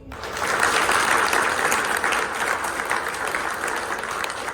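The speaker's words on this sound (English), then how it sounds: "I think Sean deserves a good round of applause for her time and energy." Sustained applause from an audience at a staff service awards ceremony at a care home, a dense wash of clapping that swells quickly and holds steady, filling the room for several seconds.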